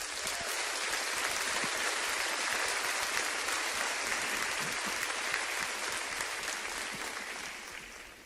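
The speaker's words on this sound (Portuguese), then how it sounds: "Você pode aplaudir a Jesus." A church congregation bursts into sustained applause, a loud, dense clapping that stays full throughout before tapering off at the close.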